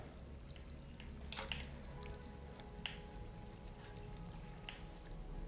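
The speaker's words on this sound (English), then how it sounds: "Is that water again?" Water dripping in the video game Stray, sparse splashy drips and a faint pouring trickle over a low ambient hum, quiet and without talk.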